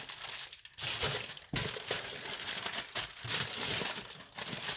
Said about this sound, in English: I'm gonna take the foil and place it in the foil and fold it also